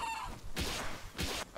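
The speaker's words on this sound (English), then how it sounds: "I see you, little chicken." A chicken in the video game Palworld gives two short, bright clucks about half a second apart, fairly close and fairly quiet, with no talk.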